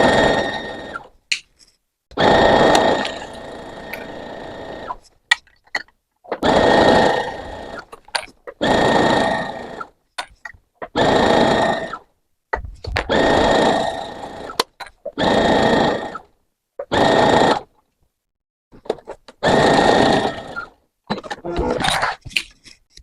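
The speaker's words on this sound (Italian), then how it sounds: "Metto sotto il piedino a 1 centimetro dal bordo, blocco il punto e faccio tutta la cucitura" A domestic sewing machine stitches a seam through fabric, running in repeated bursts of a few seconds each with short pauses between, close and fairly loud, no talking over it.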